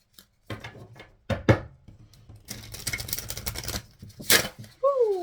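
Cards are riffled and bridged in quick crisp bursts, papery flutters and taps close by, ending with a short vocal exclamation.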